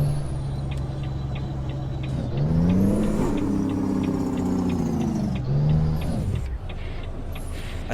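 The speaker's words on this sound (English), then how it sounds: "Pretty sure this is a Cummins engine in here." A video game truck's Cummins diesel engine drones steadily, then rises in pitch as it revs and accelerates, drops back, and surges again, loud and close.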